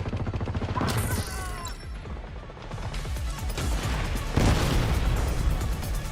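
Auto turret gunfire in The Division's Brooklyn battle, a dense, crackling fusillade of shots and impacts running throughout at steady loudness, with a sharper burst near the end.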